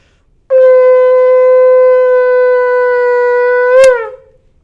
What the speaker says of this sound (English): And I will blow a tekiah right now.